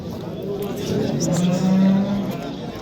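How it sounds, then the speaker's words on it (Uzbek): A black cow at the Baliqchi livestock market in Andijan gives a low, drawn-out moo that swells in the middle and trails off over the murmur of the crowd. "O'ta chiroyli sigir ekan"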